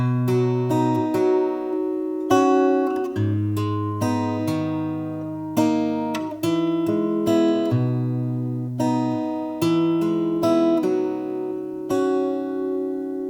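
Fingerstyle acoustic guitar riff from a song: plucked bass notes and chords ringing in a steady, unhurried rhythm, close and clear, with no voice.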